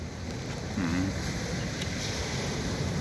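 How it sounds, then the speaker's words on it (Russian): Steady wash of sea waves and surf with wind buffeting the microphone, a continuous roar from nearby with no distinct breaks. "слышите море?"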